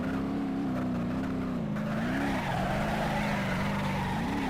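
A car skids in the BeamNG Drive driving game, its engine droning and wavering in pitch with a tire screech layered over it, continuous and fairly loud throughout.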